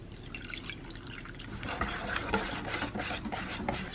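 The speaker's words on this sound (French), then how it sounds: "On mélange bien avec un fouet." Whisk scraping and stirring pancake batter with milk in a bowl, a soft rhythmic rasping and sloshing that grows busier and louder partway through.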